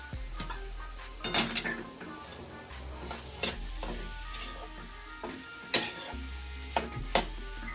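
Raw jackfruit vegetable being stirred in a metal pot, with scattered scraping and clinking of a spoon against the pot over a low background hum.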